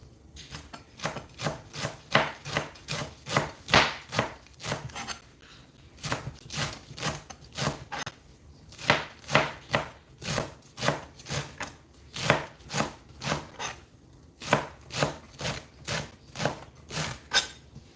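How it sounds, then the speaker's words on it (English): A knife chops steadily on a cutting board in quick rhythmic bursts of sharp knocks, close and clear, with brief pauses between runs. "And what we do is chop it off"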